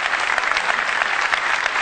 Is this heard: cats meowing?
no